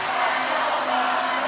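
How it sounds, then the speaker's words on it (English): Arena football crowd at a Beaumont Renegades versus Minnesota Monsters game, a steady dense roar of cheering and noise filling the stands, loud and continuous without break. "Listen to this crowd."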